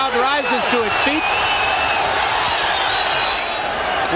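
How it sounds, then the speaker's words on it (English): Boxing crowd rising to its feet and cheering at a heavyweight fight, a dense continuous roar that stays loud throughout, with a commentator talking over its start. "Crowd rises to its feet"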